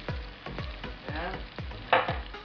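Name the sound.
stirring shrimp paste (bagoong alamang) in a pan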